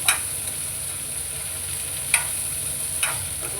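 Onions frying in a pan, a steady soft sizzle running throughout with a few sharp scrapes of a spoon stirring against the metal.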